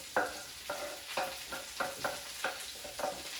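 Onions, garlic and chili are stirred into hot oil in a pan for penne arrabbiata on medium heat. A quiet background sizzle is broken by about seven regular scraping stirs of a utensil, close and fairly faint.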